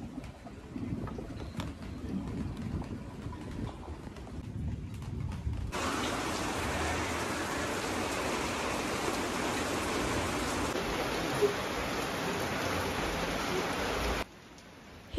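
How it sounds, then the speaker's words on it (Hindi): Steady rain falls outside a cafe, a brief softer patch giving way to a dense, even hiss that lasts several seconds before cutting off near the end. "it's raining again"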